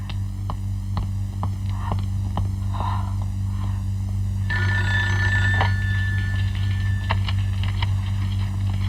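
A telephone rings with a repeated electronic warble from about the middle of the scene at a lawyer's office, steady and clear over a constant low hum and some rustling movement.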